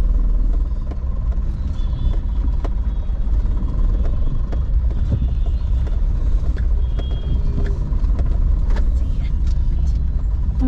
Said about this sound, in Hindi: चालू गाड़ी में वीडियो उतार रहे हैं